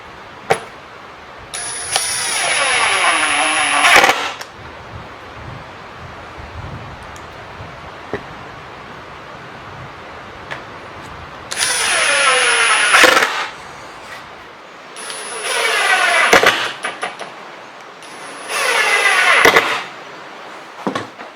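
A power driver sinks screws into a live-edge black walnut crossbow bow holder in four close bursts of a few seconds each, a high whirring grind separated by quieter shop background.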